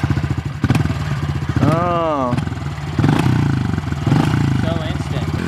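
A Honda CRF110 dirt bike engine chugs at close range with a steady, choppy putter and brief revs, while people talk over it and a voice exclaims once.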